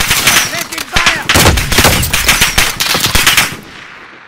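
Rapid automatic gunfire in the Warzone battle-royale game: loud, dense machine-gun bursts hammering steadily for about three seconds before cutting off abruptly into near silence.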